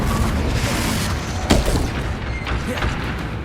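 Confringo fire spell exploding in Hogwarts Legacy, a sharp blast around the middle of a loud, busy combat soundscape with rumbling effects and a voice calling out.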